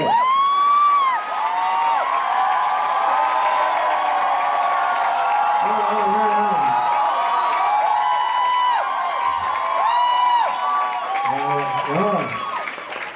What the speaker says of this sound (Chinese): 你们要给他们掌声啊